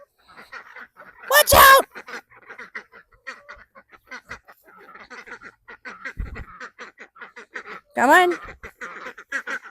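Ducks in a backyard homestead pen shared with chickens give two loud bursts of harsh honking calls, one early and one near the end, with people talking nearby throughout.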